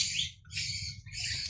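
Indian Lahore colour pigeons at a farm make soft repeated chirping calls in three short bursts over a low steady rumble, fairly faint and with no talk.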